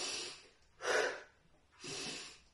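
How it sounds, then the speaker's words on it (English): Two heavy exhalations from a person doing a seated whole-body workout for older adults, each a broad breathy rush about a second long, close and fairly loud, separated by a quiet gap. "Breathe."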